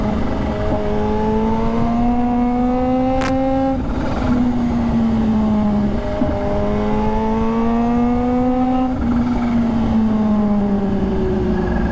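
A Kawasaki Z H2 sports motorcycle engine revs loudly and steadily in traffic, its pitch climbing and dipping in repeated surges over about twelve seconds, with a constant dense roar and no voices.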